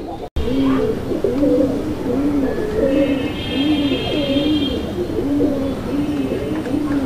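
Pigeons coo in a repeated rolling rhythm, a male calling in a loft of Raj-Golla, Madrasi-Golla and large pigeons, close and clear against a constant background hum, with faint chirps overhead.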